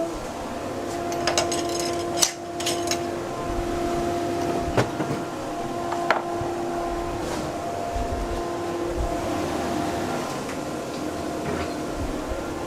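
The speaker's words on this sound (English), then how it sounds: "I'm going to put the sander on a minute, and the dust extractor." A power sander and dust extractor run together in a woodturning workshop, giving a steady, loud mechanical drone throughout, broken by a few sharp knocks and clatters.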